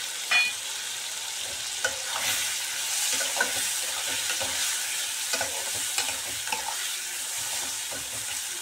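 Salt, turmeric, chili and other spices sizzle and fry in a pan with softened potatoes for a no-onion, no-garlic potato curry, while a spoon scrapes and stirs in irregular clinks and swishes over the close, continuous crackle.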